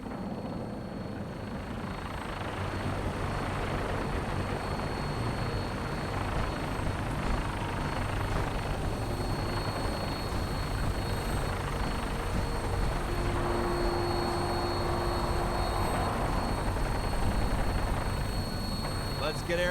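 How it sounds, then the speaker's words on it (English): A vertibird in Fallout 4 hums and thrums steadily as it flies, a continuous rotor and engine drone with voices talking over it at times. "we have a vertibird on standby, fully armed and ready to depart"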